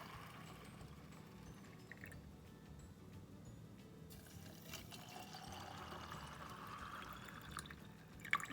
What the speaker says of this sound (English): Now we're going to fill each jar with room temperature water.